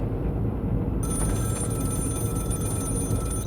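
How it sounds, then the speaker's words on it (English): A telephone on board a submarine in a Wolfpack multiplayer session rings steadily, an electronic bell that starts about a second in and continues over low engine rumble. "Phone."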